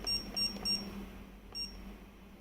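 AX1 LCD alarm keypad beeps as the arrow down key is pressed, three quick short tones followed by a fourth after a pause, faint over a quiet room.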